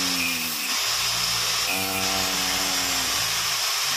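A small power drill whines steadily, its pitch dipping and rising as it bites in, drilling a small air hole in a homemade oil stove, close and continuous.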